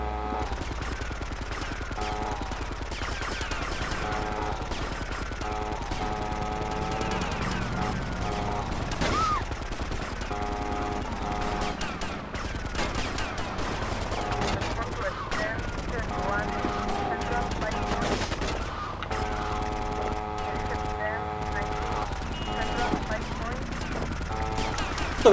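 Rapid, dense gunfire crackles through a GTA Vice City Definitive Edition chase on PS5 in long machine-gun bursts. Game sounds with voices mix in throughout.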